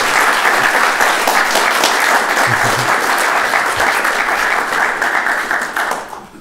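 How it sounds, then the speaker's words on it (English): An audience at a lecture on Luther bursts into loud, dense applause that holds steady for several seconds, close and full, then tapers away at the end. "I'd like a round of applause"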